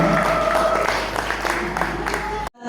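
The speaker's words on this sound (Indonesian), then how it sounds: "Boleh kasih tepuk tangannya dong." A crowd claps with scattered, uneven hand claps at a mobile network Media Day event in South Lampung, with a voice or music running underneath before the sound cuts off sharply.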